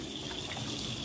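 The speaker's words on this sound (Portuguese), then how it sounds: "Agora vamos jogar uma água aqui, né?" Water is poured onto an aluminium pan during scrubbing, a continuous close splashing rush that stays loud and even throughout, with no talking.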